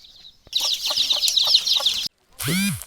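Dense, rapid high-pitched peeping from a crowd of chicks being given medicine, continuous and fairly loud, broken by a short pause and a brief squeaky sound at the end.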